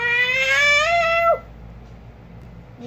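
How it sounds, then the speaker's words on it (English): A cat gives one long, loud, drawn-out meow that rises and then falls, lasting just over a second, followed by quiet room tone and the start of a second sound at the very end. "My cat keeps meowing at me."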